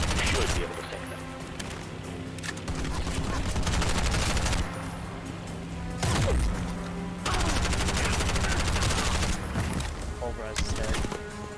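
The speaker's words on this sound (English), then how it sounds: "Who's shooting at me now?" Sustained bursts of gunfire in Bright Memory Infinite, dense rapid volleys rolling through most of the stretch with short gaps, loud and close, under a game voice speaking briefly.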